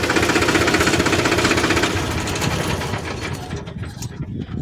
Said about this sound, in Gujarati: તો આપણે બંધ કરી દઈએ ટ્રેક્ટરને